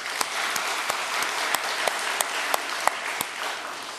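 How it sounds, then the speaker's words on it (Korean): A congregation at a Sunday church service claps together in sustained applause, a few louder claps standing out near the front, with no talking. "격려의 박수를 부탁합니다"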